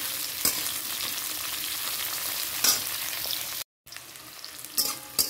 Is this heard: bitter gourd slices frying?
yes